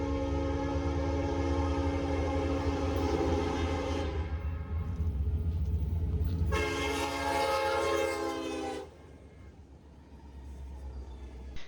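A Union Pacific heritage diesel locomotive in MKT colors rumbles past and sounds its multi-chime horn in two long blasts, the second starting after a short gap, with the engine roar continuing beneath and then easing off at the end.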